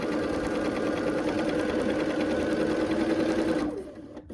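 A sewing machine stitches a quilt seam for an eight-pointed star block, a steady fast mechanical whir running continuously up close, then stopping abruptly near the end.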